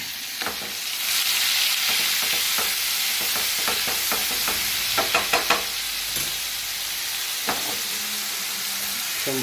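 Drumstick vegetable with garlic, tomato and green chilies frying in a nonstick pan, a continuous loud sizzle broken by scattered clicks and knocks of a spoon against the pan.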